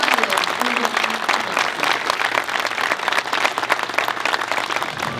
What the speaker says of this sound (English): Please join me in giving Jaime Jarrín a round of applause.